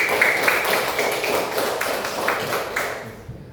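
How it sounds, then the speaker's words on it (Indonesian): A classroom of students applauding a classmate, a fairly soft patter of claps from a small group in a room, steady for a few seconds before trailing off. "tepuk tangan untuk Anggun"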